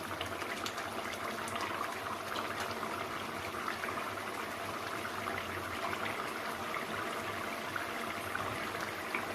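Egg curry simmers in a pan as the gravy reduces, giving a soft, steady bubbling hiss that stays faint and even throughout, with no voices.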